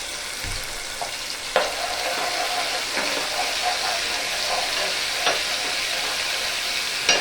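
Ginger, garlic and coriander paste frying in a pan for a Malvani-style fish curry, a loud continuous sizzle with a few brief stirring knocks, no talking.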